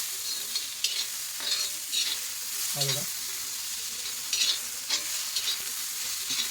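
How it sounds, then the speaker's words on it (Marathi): Chopped tomato being stir-fried in a pan with a steady, close sizzle running throughout, overlaid by repeated soft scrapes of a spatula and one brief metallic clink partway through. "आपण एक टॅमॅटो जो बारीक कापून ठेवला मी उभा कापलाय तुम्हाला होतो बारीक कापा तो फिरून घेऊ आपण"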